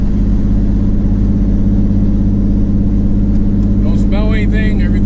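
Twin turbo V6 car engine running with a newly installed exhaust, a loud steady low drone heard from inside the moving car, with someone talking over it near the end.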